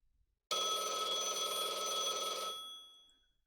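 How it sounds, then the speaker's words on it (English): Landline telephone ringing in the video game Blue Archive: a single sustained electronic bell trill, bright and buzzing, starting abruptly after a moment of silence and holding for about two seconds before fading out, with no voices. "Oh, that's my phone."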